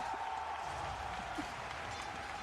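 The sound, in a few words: crowd cheering at Dota 2 esports event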